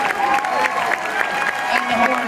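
A concert crowd at a show in Buffalo claps and cheers loudly and steadily throughout, with a voice carrying over the ovation.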